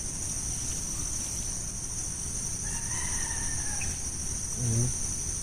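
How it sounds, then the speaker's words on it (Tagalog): A rooster crows in the distance, followed by a second, louder crow closer by, over a steady background hum of insects. "Narinig ko mga tulaok ng mga manok."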